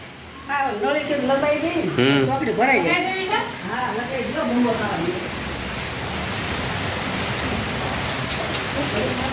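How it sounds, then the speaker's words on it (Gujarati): Steady hiss of rain falling throughout, with a voice speaking over it in the first half before the rain continues alone. "વરસાદ ચાલુ થઈ ગયો"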